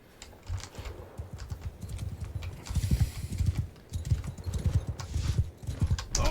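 Horses of a mounted horse-archer escort in Bannerlord trot along with a steady, overlapping clip-clop of hooves, fairly close, with no talking.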